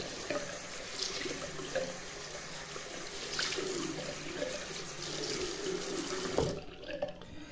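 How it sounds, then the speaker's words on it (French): A kitchen or bathroom tap runs steadily into a sink while a cleaned surface is rinsed, with splashing and small clatters close by, before the flow cuts off near the end. "Tu prends, tu rinces, tu essuies et c'est fini."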